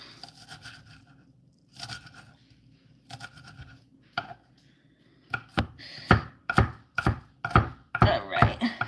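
Onions are chopped on a board with a knife for burgers. Early on the cuts come in quick bursts separated by pauses. Later the steady, loud chops grow more rapid and close.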